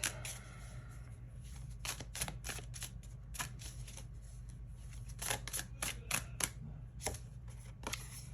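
Tarot cards being shuffled and drawn, with a run of crisp, papery riffles and snaps in close bursts over a steady low hum, no talking.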